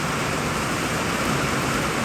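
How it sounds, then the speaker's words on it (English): Steady rain falls outdoors as a soft, even hiss of drops without pause, faint and continuous. "it rained on us."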